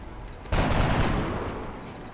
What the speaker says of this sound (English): Just firing into the dark now.